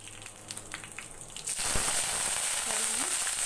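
Red chilies and spices hit hot oil, followed by a sudden, steady crackling sizzle that carries on after some earlier kitchen clatter.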